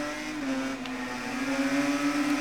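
A Yamaha racing motorcycle in the Ride 3 game, its engine droning in a steady high whine that rises slightly as it powers along, continuous and close with no talk.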